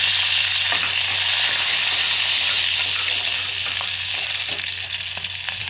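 Curry leaves added to green chillies frying in hot oil in a pan, giving a loud, steady, hissing sizzle throughout with faint spoon scrapes, close up and without talk.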